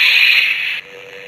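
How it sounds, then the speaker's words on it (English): A toy lightsaber running red and blue crystals together gives a Sith-style hum: a brief, loud, hissing electronic tone up close that drops to a fainter drone before cutting off. "It's got that Sith hum sounding."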